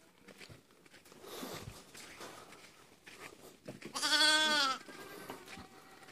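Goats bleat loudly in a farm setting, one strong drawn-out bleat standing out near the end among softer scattered calls and light shuffling.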